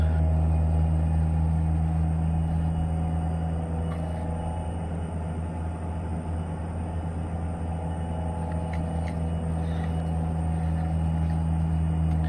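Truck and car traffic on a highway in the video game American Truck Simulator, a steady low engine drone and road rumble that holds evenly throughout, with no talk over it.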